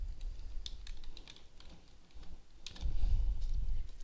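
Fingers type a short list name on a computer keyboard, a quick irregular run of close, light key clicks over a low background hum, with no talk.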